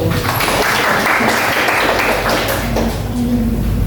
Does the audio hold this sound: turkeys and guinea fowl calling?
no